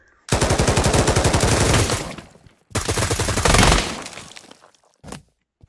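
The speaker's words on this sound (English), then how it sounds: "I'm getting semi-automatic pistols now." Rapid semi-automatic pistol fire in the VR shooter Pavlov, a loud close burst of fast shots for about two seconds, a brief pause, then a second burst that tapers off, followed by one short final crack.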